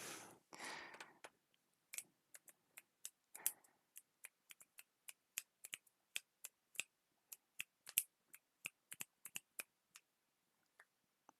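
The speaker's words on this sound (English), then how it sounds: "You could hear that was me clicking my fingers." Fingers click in a steady series of sharp, dry snaps, close and fairly quiet, repeating at a quick irregular rhythm after a brief rustle at the start.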